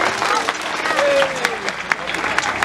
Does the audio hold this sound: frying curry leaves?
no